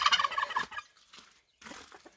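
Turkeys in a snowy outdoor pen gobble nearby in a loud rapid warbling burst, then a quieter second gobble follows after a short pause.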